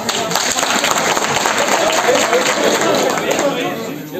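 A crowd at a political party workers' convention in Tangmarg claps loudly and continuously, with some murmuring and movement mixed into the dense applause.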